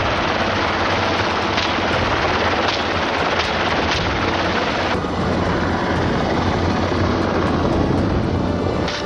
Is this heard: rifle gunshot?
yes